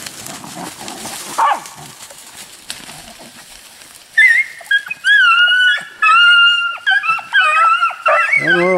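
Hunting dogs bay and yip in eager bursts while chasing a snowshoe hare, close and loud, rising into a run of high wavering howls after a quieter start with a brief voice.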